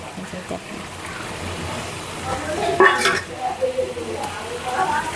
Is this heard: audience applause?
no